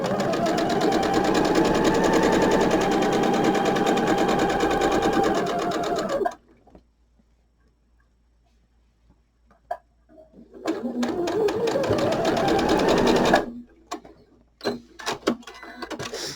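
A sewing machine stitches quilt fabric in a quick close whirring run that halts abruptly, then starts again in a shorter burst, with quiet clicks and pauses between.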